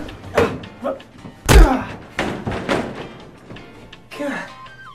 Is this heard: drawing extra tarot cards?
no